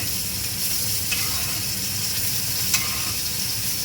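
Steak and onion sizzle loudly and steadily in a hot pan, a dense close frying hiss broken by a couple of faint clicks.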